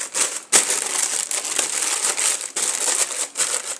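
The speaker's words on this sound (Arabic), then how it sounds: "كنجيب عندي ورق ديال الطبخ" Baking paper is crumpled and crushed by hand in a home kitchen, giving a loud, close, continuous crinkling with brief pauses and no talk.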